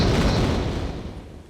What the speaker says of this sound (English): And we should avoid most of his explosion.